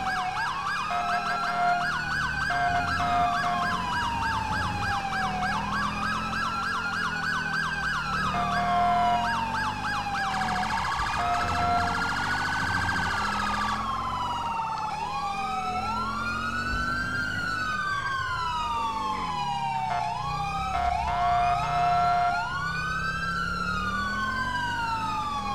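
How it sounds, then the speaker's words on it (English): Two police sirens in a video game wail at once, one sweeping up and down in long cycles while another yelps faster, loud and continuous. "since I can do a dual siren, so I have one on right now"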